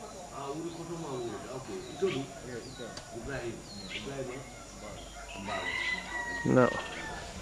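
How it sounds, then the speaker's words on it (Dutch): Chickens cluck and a rooster crows at a farmyard in the Gambia, a moderately faint mix heard beneath someone talking throughout. "hier lopen kippen, die geven eieren"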